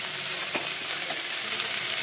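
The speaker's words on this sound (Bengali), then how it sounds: "আমি আলুগুলোও দিয়ে দেবো একসঙ্গে, তাহলে কিন্তু ভাজা হবে আলুটা আর ডাঁটাটা সুন্দরভাবে" Thick vegetable stalks and potatoes fry together in a pan with an even, close, continuous sizzle and one light scrape partway through.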